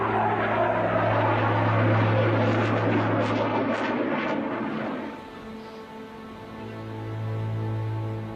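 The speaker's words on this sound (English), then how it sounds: "F-22 can reach speeds of more than Mach 2 and supercruise or sustain supersonic flight without use of an afterburner" An F-22 fighter jet flying past, a loud sustained engine roar that swells, dips around the middle and rises again, with no speech.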